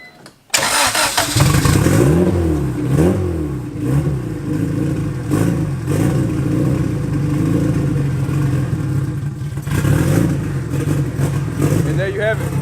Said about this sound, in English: we want to leave it open because we're about to start the car